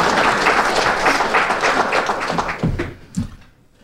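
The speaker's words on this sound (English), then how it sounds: "if we could have another round of applause for our school board" An audience at a school board of education meeting applauds the board in a steady burst of clapping that thins into a few last scattered claps and fades out.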